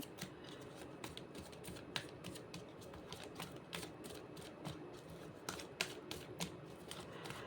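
Tarot cards being shuffled by hand, a close, soft run of rapid riffling clicks and flutters in quick irregular bursts, with no talk.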